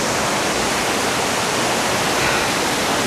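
A monsoon-swollen waterfall on the Bagmati River at Okhreni near Kathmandu roars in a loud, steady, unbroken wash of falling water, close and without pause.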